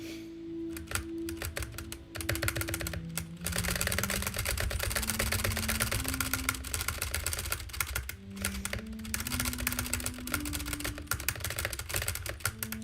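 Rapid key mashing on a computer keyboard during a video game, a dense, continuous clatter of fast clicks lasting many seconds with brief gaps, under a droning tonal game soundtrack.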